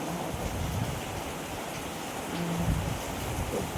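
Steady rain falls outside a home, a dense, even wash of noise with no distinct drops or voices.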